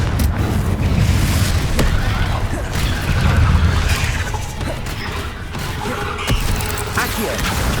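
A Confringo fire spell in the video game Hogwarts Legacy explodes in a loud, dense booming blast that rumbles and crackles continuously over game ambience, with a voice shouting.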